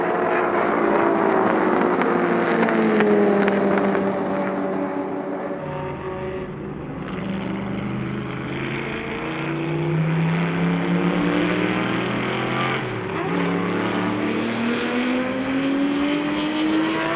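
A 1959 Ferrari 250 GT, car number 11, races at the Sonoma Speed Festival with its engine loud and close, the pitch sweeping up and down through repeated gear changes and throttle lifts as it laps, with no talking over it.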